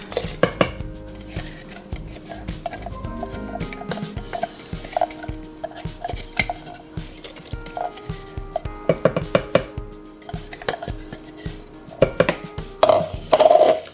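Metal utensils scrape and clink against a pot as thick spice paste is stirred into boiling coconut milk with water spinach, irregular knocks and scrapes at close range with no voices.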